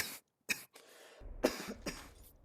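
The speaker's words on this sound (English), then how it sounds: "there goes the cough again" Two short, sharp coughs from one person, the first brief and the second followed by a longer rasping, throat-clearing tail over low background hum, close and fairly loud.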